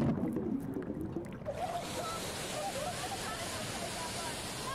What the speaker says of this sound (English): Getting refreshed under a waterfall after a long hike in the mountains is a feeling I'd never experienced and won't ever forget.